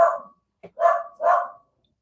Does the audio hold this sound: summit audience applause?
no